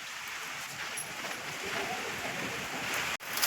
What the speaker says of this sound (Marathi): पावसाची रिमझिम ही सारखी चालूच राहते